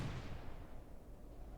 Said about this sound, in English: the Cybern artillery can hit some of them